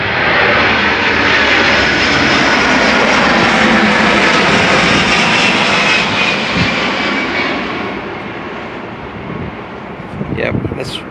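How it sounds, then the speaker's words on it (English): A jet aircraft flies overhead, a loud, continuous roaring rumble that fills the whole span and eases off toward the end. "I got a jet coming, so I may have to pause for a minute"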